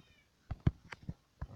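A series of short electronic-sounding cat meows from a video game, about five quick calls in close succession, fairly loud and with no talking.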